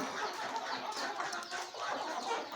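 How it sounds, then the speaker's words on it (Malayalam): Free-range country chickens raised at home cluck and murmur in a steady, busy flock chorus, close and continuous with no voices. "അവൻ്റെ വീട്ടിലെല്ലാവരും എല്ലാവരും കൂടി വളർത്തുന്ന കോഴികളെയാണ്"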